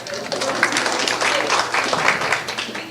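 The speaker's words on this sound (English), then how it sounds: "Give yourselves a round of applause." An audience applauds in a room, many hands clapping in a dense, steady patter that runs throughout at a moderate, close level.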